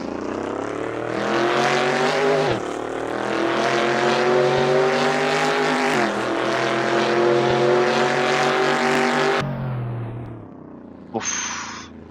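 A 1970 Chevrolet Chevelle SS V8 launching hard in Assetto Corsa, its loud, rough engine roar climbing through revs with gear-shift breaks, then cutting off into a brief fading tone.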